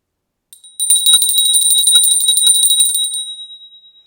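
A bright, high-pitched bell rings once for a mindful breathing exercise, struck sharply and then sustaining a clear metallic tone that slowly fades over several seconds, heard alone without talking.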